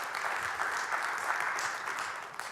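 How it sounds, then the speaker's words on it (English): An audience at a tech talk claps together in a dense, continuous burst of applause that stays steady and fairly loud throughout. "So let's give a little round of applause for those guys"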